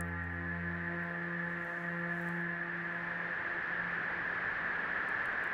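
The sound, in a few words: synthesizer noise generator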